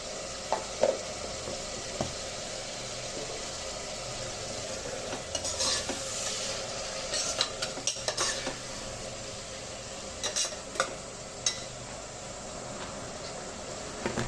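Tomatoes fry with turmeric powder in a pan for a Kannada menthya bath, a continuous close sizzle broken by scattered sharp clicks and scrapes of a stirring spoon against the metal, with no talk.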